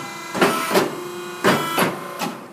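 An electric paper cutter slices through a stack of memo pads, giving a few separate mechanical clunks and whirs. Several distinct bursts are spaced about a second apart, close and fairly loud, with no talking.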